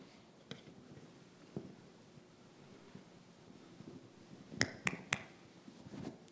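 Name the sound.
hands clapping for a sound localization test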